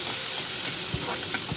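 Onion and tomato fry in butter and oil with bay leaf, green chilli and curry leaves for pav bhaji, giving a steady soft sizzle and hiss with faint stirring scrapes, close by and without speech.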